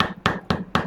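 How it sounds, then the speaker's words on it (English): Four quick, sharp hammer blows on metal, evenly spaced and close, each with a brief metallic ring. "Hammer it flat."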